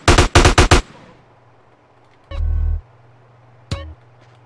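Gunfire in GTA San Andreas: a rapid burst of four loud, close shots, then after a pause a heavier, booming blast and one more sharp shot, all over a faint low background hum.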